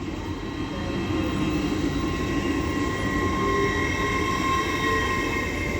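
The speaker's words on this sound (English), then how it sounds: "Now getting ready to depart is 801228 with the 1402 LNER service to London King's Cross." An LNER electric train, unit 801228, pulls away from York station with a steady, loud rumble and hum, thin whining tones on top and no speech.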